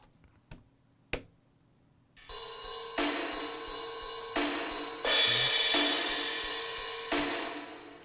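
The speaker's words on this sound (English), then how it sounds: "So this is the sound of the reverb for the drums" Lo-fi reverb from the Easy Verb plugin on a drum loop, giving the kit a roomy wash: two isolated hits open, then a steady, loud pattern of repeated strikes with a sustained ringing tail and no voices.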